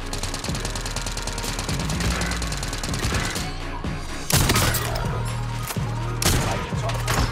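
Gunfire in Call of Duty: Warzone: sustained rattling automatic fire, then sharp, loud bursts of shots at irregular intervals over busy game noise.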